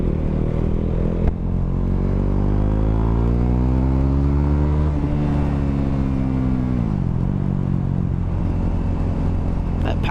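Rising engine roar from a 2016 KTM 390 Duke single-cylinder motorcycle accelerating, revs climbing through gears with a brief drop at each shift, loud and steady under wind rumble.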